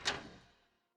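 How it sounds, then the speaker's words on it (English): A wooden door opens quietly in a dark lab building, one soft creak or thud that fades out over about half a second, close and alone. "opening the one wooden door as quietly as possible"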